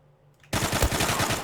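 Rapid automatic gunfire from the online shooter Zula, a dense burst of close, loud shots rattling on after a brief quiet start, with no talking.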